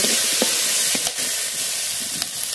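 Ginger, cumin, garlic and chili paste fry in a pan with a bright, continuous sizzle, punctuated by a few soft clicks and scrapes of stirring close by, with no talking.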